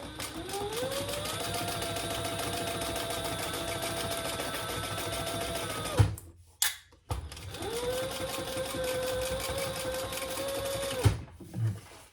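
A sewing machine runs steadily, stitching a seam on a crossbody bag at the pattern's seam allowance, with two long continuous runs and a brief pause and clunk between them, close and fairly loud.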